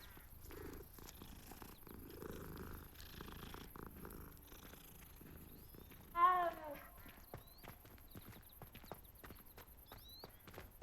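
A cat purring while being petted in a Hogwarts video game, a soft low purr under faint footsteps and ambient game sounds, with a brief louder meow-like call in the middle.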